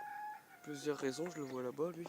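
A farmyard rooster crows with a drawn-out tonal call at the start, then someone speaks French over it at close range.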